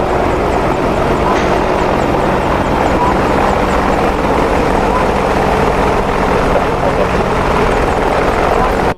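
Apache attack helicopters in the DCS flight simulator, a loud continuous rotor and turbine roar that stays close throughout, with faint talk beneath.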